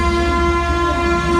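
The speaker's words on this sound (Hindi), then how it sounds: "चलो जी, हमारी ट्रेन तो चल पड़ी।" A train pulling away from a New Delhi station, with a sustained horn blast over the low rumble of the moving cars, close and loud for the whole stretch.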